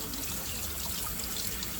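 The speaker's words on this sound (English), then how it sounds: "now, you want to get some cold water. Take this. Run it under there." Cold water runs steadily from a kitchen tap into a sink with a screen grate, a continuous close hiss and splash with no talking.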